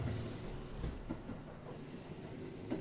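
A very long train rolls past in a video game with a continuous low rumble and faint rhythmic clatter of wheels over the rails, steady and fairly quiet, with a few sharper knocks along the way.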